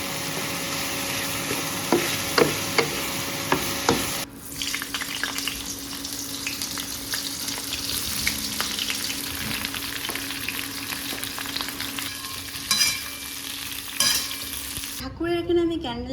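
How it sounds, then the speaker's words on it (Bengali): Cauliflower florets fry in hot oil with poppy seeds, a steady close crackling sizzle with occasional stirring scrapes, continuing throughout and ending abruptly. "এই যে হচ্ছে ফুলকপি, এটা একটু ভালো করে ভেজে নেবো"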